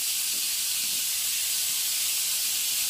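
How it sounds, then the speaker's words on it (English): Skirt steak sizzling in a hot pan just after being turned, a loud, steady, bright hiss filling the whole stretch without pause, close up. "So turn the steaks over now"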